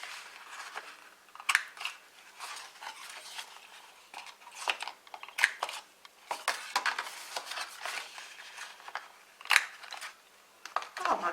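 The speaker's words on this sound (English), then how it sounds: "I'm going to round the corners on all of my ends, all of my top pieces." A handheld corner rounder punch clips the corners of paper card pieces in a series of short crisp snips and crunches, irregularly spaced, close and fairly soft with faint background rustle.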